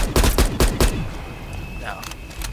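Rapid bursts of gunfire from Call of Duty Black Ops Cold War Outbreak mode, several sharp close shots in the first second, then fading into quieter game ambience.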